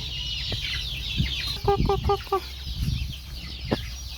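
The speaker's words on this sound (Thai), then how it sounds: "ลืมปล่อยไก่เลย มาจะปล่อย" Several chickens cluck in a short run of rhythmic clucks near the listener, with some background noise around them.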